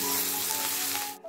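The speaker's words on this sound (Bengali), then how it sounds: "দিয়ে হালকাভাবে পেঁয়াজটা আমি ভাজা করব।" Sliced onions frying lightly in a pan with salt, a continuous close hiss of sizzling oil that cuts off abruptly near the end.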